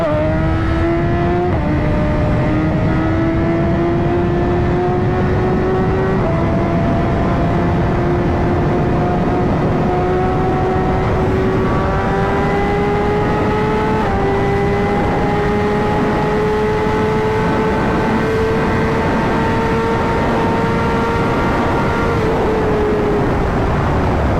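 A fast moped accelerates hard through second gear, its engine whine climbing steadily in pitch with a few brief dips, loud and continuous throughout with no talking.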